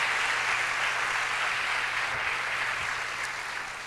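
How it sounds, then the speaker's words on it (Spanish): A church congregation breaks into sustained applause during a sermon, a thick wash of many clapping hands that stays even and fairly loud, then eases slightly at the end. "déles aplauso a nuestro Dios con todo su corazón"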